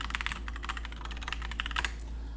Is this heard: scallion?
no